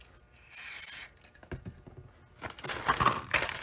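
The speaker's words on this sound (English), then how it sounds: "spray it with some shotgun cleaner" A short hiss from an aerosol can of shotgun cleaner sprayed onto a Scotch-Brite pad while cleaning a Remington Model 1100, followed by light handling clicks and rustling, close and fairly quiet.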